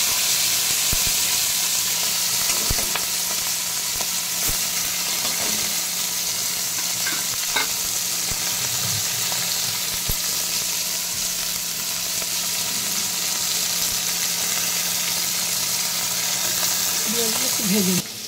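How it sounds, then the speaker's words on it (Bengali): Small puti fish fry lightly in hot oil, a continuous broadband sizzle and hiss that stays steady and close for the whole stretch, with a few faint knocks of a utensil near the end. "পুঁটি মাছগুলো হালকা ভেজে নেব, বেশি ভাজবো না,"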